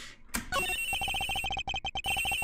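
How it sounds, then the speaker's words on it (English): A telephone rings in the video game Ace Attorney Investigations, a clear, close electronic ringtone in quick repeating bursts with brief gaps, alone without voices. "The ringing is coming from somewhere around here."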